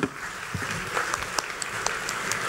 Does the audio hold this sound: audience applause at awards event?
yes